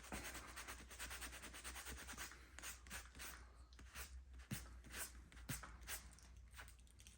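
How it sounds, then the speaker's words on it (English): Repeated rubbing and scraping strokes of sandpaper worked over an e-bike tyre's rubber inner tube during a puncture repair, steady and close, with a few sharper taps in between. "so you want to sand it down"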